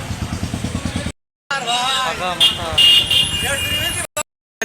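Crowd of people and many motorbikes waiting in long queues at a fuel pump in Budhhata Bazar, Assasuni, Bangladesh, with engine rumble and babble throughout, broken by two short dropouts.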